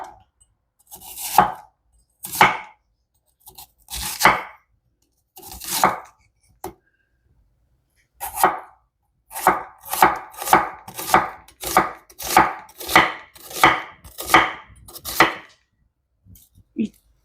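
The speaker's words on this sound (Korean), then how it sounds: "양파를 한 2개 정도 썰어 줄 겁니다." Onions sliced with a sharp sashimi knife on a cutting board, crisp close knocks, sparse at first and then a fast regular run of strokes.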